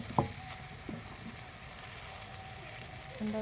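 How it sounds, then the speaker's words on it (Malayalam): Drumstick meat roast frying in a pan as it is stirred, a steady close sizzle with a sharp scrape near the start and a few soft knocks, no voices. "കളറുണ്ടോ പിന്നെ നന്നായിട്ട് ഇളക്കി കൊടുക്കണം"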